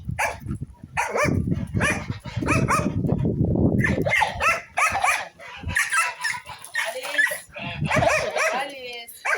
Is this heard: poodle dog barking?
yes